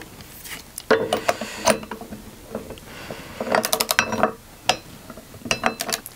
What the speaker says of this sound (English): I'm going to switch over to my torque wrench.